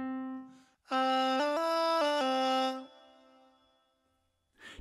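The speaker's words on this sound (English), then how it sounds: "There's also an auto pitch feature that will correct the pitch subtly or in the more drastic robotic way." A singing voice through the Korg Pa5X auto pitch feature set to its robotic mode, a short sung phrase with stepped, artificially snapped notes, close and clear, followed by quiet and a brief breath or noise at the end.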